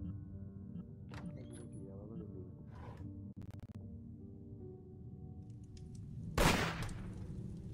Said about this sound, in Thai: นี่ใครยิงปืน